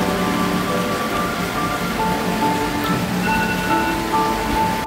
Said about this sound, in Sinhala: ආයමත් වහින්න පටන් ගත්තා.